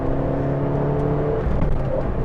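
The 1.4 litre turbocharged engine of a 2012 Abarth 500 hot hatch hums and rises as the car accelerates, a close, steady drone with shifting engine tones and no talk.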